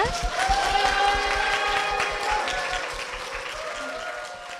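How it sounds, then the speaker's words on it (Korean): A church congregation gives a big round of applause to welcome a guest onto the stage, producing a full, sustained wash of clapping that gradually fades while a faint musical tone rings beneath it. "큰 박수 부탁드립니다"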